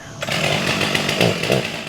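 A chainsaw cuts through large fallen trees during creek cleanup work in a county park, its steady, loud, raspy drone running continuously up close with small surges in intensity.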